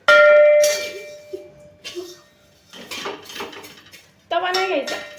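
A metal spatula clangs against pots and utensils in a home kitchen, giving several bright ringing hits with gaps between them. The strikes are close and loud, and faint activity fills the pauses.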